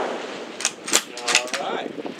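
A single sharp, loud 7mm PRC shot from a 20-inch carbon rifle at a long-range shooting session, aimed at an 800-yard target, followed by brief voices in the background.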